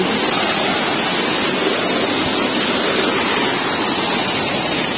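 Lumondo Falls waterfall at Budlingin, Alegria, Surigao del Norte pours in a steady, loud, broadband roar of rushing water, continuous and close for the whole stretch with no voices.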